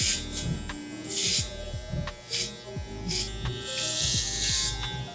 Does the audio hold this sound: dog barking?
no